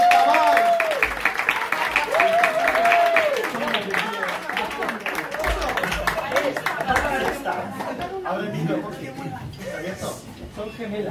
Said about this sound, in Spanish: ¡Ese aplauso, por favor!